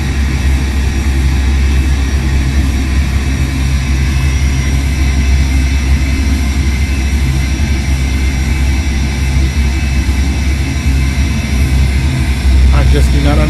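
An airplane engine drones in the flight simulator Prepar3D, a loud steady cabin hum with constant tone throughout, with a brief knock of activity near the end.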